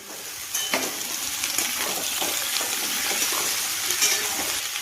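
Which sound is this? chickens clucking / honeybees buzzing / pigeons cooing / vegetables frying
vegetables frying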